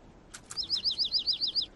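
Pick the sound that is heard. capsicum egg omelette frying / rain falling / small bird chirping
small bird chirping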